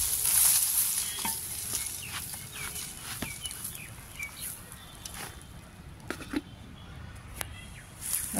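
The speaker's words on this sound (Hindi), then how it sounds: "अच्छे से मिट्टी डाल दूँ।" Garden soil is poured into a jar planter with soft, gritty rustling and scattered small taps and clinks, fairly close and moderately quiet, with no talk.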